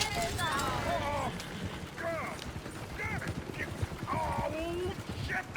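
Clip-clopping hooves and whinnying horses in Red Dead Redemption 2, with people talking over the noise throughout.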